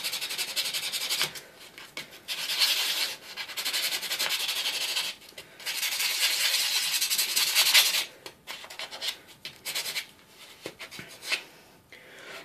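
Abrasive is rubbed against a Dovo straight razor during restoration, making a close, dry, rasping scrub in long sustained strokes separated by short pauses, with quicker, choppier strokes toward the end.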